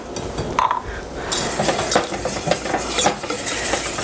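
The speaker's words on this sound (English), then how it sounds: "And then whisk that and let it thicken over the flame." A whisk stirs flour, butter and liquid into a thickening sauce in a pan over a flame, giving close, steady scraping and clinking strokes against the metal, with light sizzling underneath and no talk.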